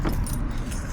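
Car keys jangle close by over the low rumble of an idling Toyota 4Runner as it is switched off during a food-delivery run, a short continuous metallic rattle.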